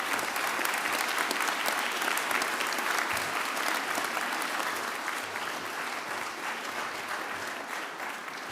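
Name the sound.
applause for graduates at ceremony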